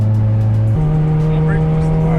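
A 500 hp Mitsubishi Evo X engine droning steadily from inside the car, its pitch stepping up partway through as it pulls hard off a brake boost launch; the engine note stays loud and continuous throughout.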